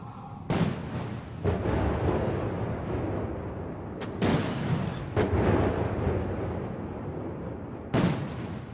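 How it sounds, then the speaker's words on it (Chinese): Ceremonial artillery salute fired at Tiananmen for the Communist Party centenary: loud, booming blasts from many guns, several separate rounds spaced a few seconds apart, each leaving a long rumbling echo over the open square. "56门礼炮鸣放100响，"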